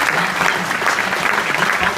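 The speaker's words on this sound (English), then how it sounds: "a big round of applause for our distinguished speakers" An audience at a public hearing on UFO and extraterrestrial disclosure gives a dense, sustained round of applause for the speakers, steady and full throughout with no voices over it.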